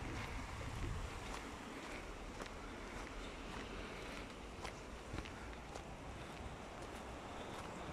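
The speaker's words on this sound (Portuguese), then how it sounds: "Olha o barulho dos ventos, do vento." Wind blows steadily outdoors at the abandoned ruins of Tapada das Mercês in Sintra, a constant broad rushing with faint gusty buffeting on the microphone and occasional soft knocks, with no voices.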